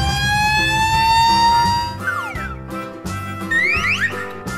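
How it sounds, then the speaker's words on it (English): A toy fire truck plays a loud electronic siren of rising, sweeping wails over a jingly tune, followed by quick bouncing chirps. "Fire truck."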